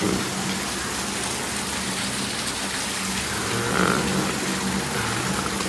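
Heavy rain pours down outdoors as a steady, dense wash of hiss that stays loud and unbroken throughout, with a faint swell near the end and no voices.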